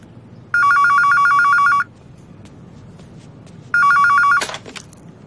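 A telephone rings in two bursts of electronic trilling, each over a second long, separated by a pause, loud and near, with a brief clatter after the second ring.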